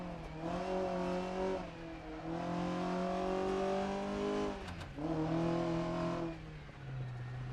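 Race car in the rally game Dirt 2.0 driven hard between houses and sliding through bends, its engine revving loudly in rising and falling sweeps with brief drops between shifts, close and continuous with no talk.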